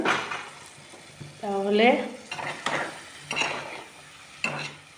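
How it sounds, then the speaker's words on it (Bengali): A ground paste of cumin, chili and ginger thinned with a little water sautés in a pan, giving a moist sizzle with repeated scraping strokes of a stirring spoon; a voice briefly speaks over it. "ভালো করে কষানো হবে"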